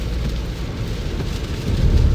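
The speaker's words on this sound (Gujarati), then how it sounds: "તમે વરસાદ જોવો કે સખત વરસાદ છે અત્યારે" Heavy rain falls at night on a highway near the ISKCON bridge in Ahmedabad, a loud, constant rushing wash with low rumbling that swells toward the end.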